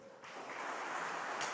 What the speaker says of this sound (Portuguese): Vamos aplaudir eles?